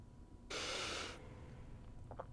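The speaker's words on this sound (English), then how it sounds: "Take a sniff." A single short sniff from one person, a burst of breath lasting under a second, close and fairly loud against a quiet background, followed by a faint trace of other sound.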